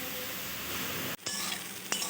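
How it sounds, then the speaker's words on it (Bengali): Grated carrots frying in ghee: steady close sizzling while they are stirred in a pan, with a couple of sharp scraping clinks of a spoon against the pan near the end. "ঘি দিয়ে গাজরটা যদি ভেজে নেওয়া যায়"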